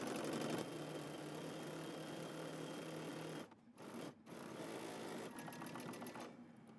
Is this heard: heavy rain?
no